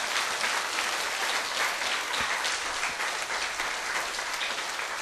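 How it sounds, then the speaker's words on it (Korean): Steady, dense applause from an audience at a church testimony gathering, loud and continuous for the whole stretch with no pauses or voices standing out. "그때부터 박수는 이때 치는 거예요."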